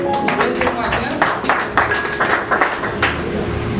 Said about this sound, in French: Applaudis Jessica pour nous.